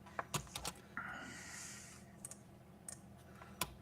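Computer keyboard typing during a live stream: scattered sharp key clicks in short irregular bursts, close and fairly quiet, with a brief softer hiss in the middle and no talking.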